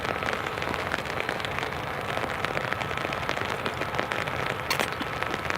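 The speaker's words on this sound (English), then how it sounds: "it's chucking it down" Heavy rain pours down steadily at an airport, a dense, even hiss of drops drumming on surfaces, constant and close with no voices.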